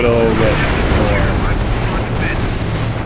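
Explosions and gunfire boom through a Company of Heroes battle in a sped-up match, a dense, continuous roar of blasts and rumbling with some mechanical noise layered underneath.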